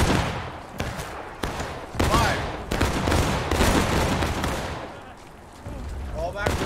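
Musket volleys in War of Rights crack out as a ragged series of loud shots across several seconds, some close and some farther off, while voices talk over the gunfire.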